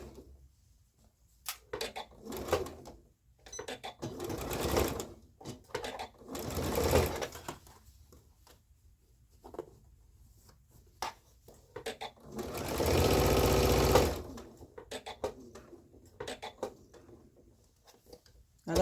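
A sewing machine stitches the seam of a boy's elastic-waist pants in several short, fairly close bursts, with the longest run near the end and quiet pauses and faint handling noises in between.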